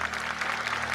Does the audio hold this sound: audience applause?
yes